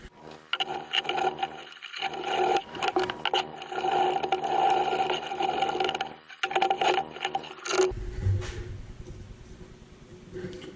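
Sno-Seal wax is rubbed by hand onto a leather dog collar in quick, close scrubbing strokes with brief pauses, then the rubbing stops and only faint handling noise remains.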